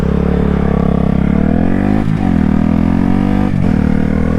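2021 Honda Grom stunt-build motorcycle with its engine revving hard and close, a loud sustained buzzing note with two brief throttle dips.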